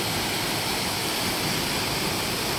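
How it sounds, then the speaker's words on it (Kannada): A waterfall at Shabari Kolla, swollen after heavy rain, pours without a break: a dense, even roar that stays unchanged from start to end, with no voices. "ನಿನ್ನೆ ಹೆಚ್ಚು ಮಳೆಯಾಗಿರೋ ಕಾರಣ ಜಲಪಾತಗಳು ಇನ್ನು ಹರಿಯುತ್ತಿದ್ದು"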